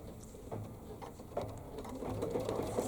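An embroidery sewing machine stitches a reverse applique design in the hoop, a quiet, busy mechanical patter of rapid needle strokes with a few louder clicks.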